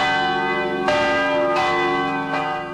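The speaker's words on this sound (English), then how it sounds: "Bells ring in many churches in Los Angeles, in New York." Church bells ringing at noon in an American city, two or three clear strikes a little under a second apart, each leaving a long humming resonance that overlaps the next.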